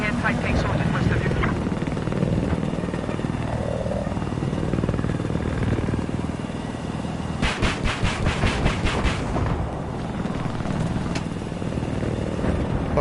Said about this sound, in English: Helicopter, there's a helo behind.